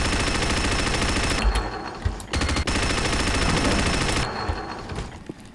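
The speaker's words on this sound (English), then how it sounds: "The Vulcan cannon, it's a minigun." The Vulcan minigun in Unreal Tournament 99 fires in loud, continuous rapid bursts, with two brief gaps between long sustained streams of gunfire.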